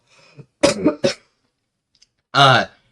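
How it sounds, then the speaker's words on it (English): A few short, sharp coughs close to the microphone, a quick pair followed by a pause and then one stronger cough. "I have another cough."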